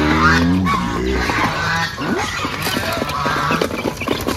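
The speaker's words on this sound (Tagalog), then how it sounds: "Nandito nga pala yung mga gansa natin, mga pabo at saka mga pato, mga manok." Farmyard geese honk loudly and repeatedly at close range, their harsh calls overlapping with a mixed flock of turkeys, ducks and chickens in the background.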